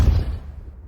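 Depulso force spell striking in Hogwarts Legacy, a single heavy low thump that hits at once and then fades over under a second, with no voices.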